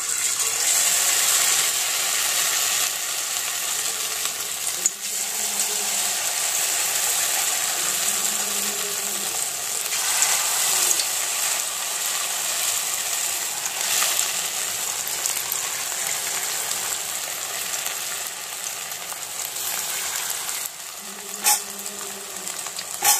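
Chowmein pakora batter frying in hot oil, spooned in piece by piece, making a continuous close sizzle with occasional bursts as portions drop in, without speech.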